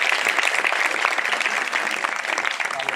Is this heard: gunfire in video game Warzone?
no